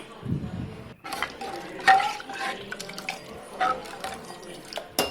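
Water poured from a tumbler over soaking rice and toor dal in a pot, with soft splashing and clinking of vessels in a home kitchen.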